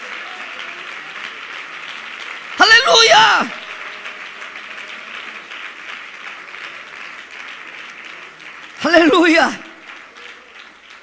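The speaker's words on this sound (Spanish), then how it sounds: "que lo manifiesten con ese aplauso fuerte a la gloria" A church congregation claps steadily and continuously throughout, while a voice rings out twice over the applause.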